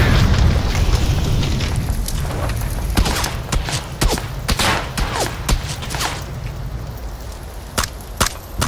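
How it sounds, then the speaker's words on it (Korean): A car blown up in PUBG, with a burst of explosive booms followed by scattered sharp cracks and pops over rumbling background noise. "차 터뜨릴게요."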